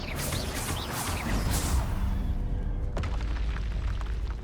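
An Expelliarmus spell cast in the Hogwarts Legacy video game, with a sharp booming burst near the three-second mark amid continuous loud magical rumbling and whooshing effects, no talking.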